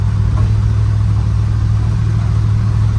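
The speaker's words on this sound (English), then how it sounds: "Just real smooth shifts in this thing." A U-Haul dump truck's engine drones loud and steady from inside the cab, a deep, even low rumble with no clear break or shift.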